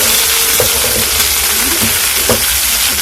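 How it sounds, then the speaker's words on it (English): Green onion whites frying in a pan, a dense continuous sizzle up close with occasional soft stirring clicks, no talking. "Then I'm going to fry my onions to golden brown"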